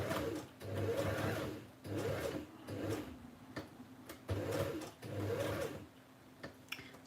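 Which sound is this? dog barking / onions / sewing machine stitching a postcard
sewing machine stitching a postcard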